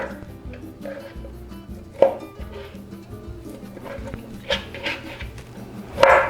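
A knife chops salami into small cubes on a board, giving steady soft knocks with a few sharper thuds, close up, over low background clatter.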